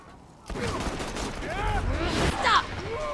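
Gunfire in Borderlands 2 crackles in uneven bursts through the middle of the clip, fairly loud amid game sound effects, with a few sharper hits near the end.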